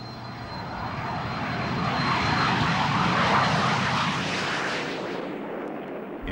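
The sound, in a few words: Soviet military jet aircraft flying in loose formation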